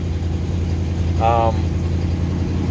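A 1964 Ford Galaxie engine idles steadily nearby, a low even rumble that stays constant, recently warmed up, with a brief faint tonal blip partway through.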